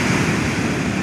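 Surf rolling onto a beach at Ilhabela, Brazil, a brief, steady, fairly loud wash of waves with a breezy rumble and no one talking.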